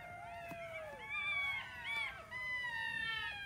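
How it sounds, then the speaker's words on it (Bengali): A pack of jackals calls at night near a farm, several faint, distant voices overlapping in rising and falling wavering howls and yelps that continue throughout. "ডাকাডাকি করতেছে শিয়ালে"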